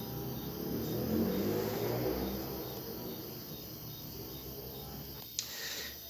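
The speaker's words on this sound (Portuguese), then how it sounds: "Eu dei pause para que essa moto, acho que é mais de uma moto, eles tomassem seu rumo." More than one motorcycle passing by outside, heard as a faint, distant engine rumble that swells and fades beneath a steady chirring of crickets.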